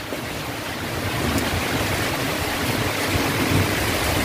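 Heavy rain pouring outdoors on a rural farm, a dense steady hiss with wind rumbling underneath, loud and unbroken with no voices.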